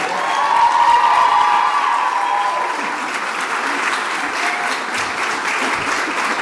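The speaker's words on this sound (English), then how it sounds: "Join me in a round of applause" A luncheon audience at a Foster Care Month event breaks into loud, sustained applause, a dense wash of clapping that stays strong throughout and eases only slightly toward the end.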